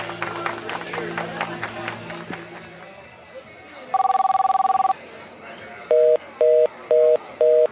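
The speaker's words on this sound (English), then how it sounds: "We're sorry, the number you have dialed is not in service at this time." Telephone tones on a dialed call that reaches a not-in-service number: a steady electronic tone for about a second, then four short repeating beeps, after a stretch of background voices and crowd noise.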